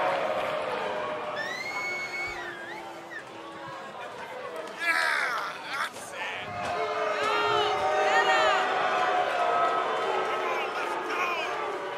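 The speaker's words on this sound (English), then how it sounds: "And Michael, it sounds to me like this crowd already picked the one who they want to win this match" Video game arena crowd from WWE 2K20 roars and cheers throughout a wrestling match, swelling louder in the second half, with whoops and chants rising over steady chatter.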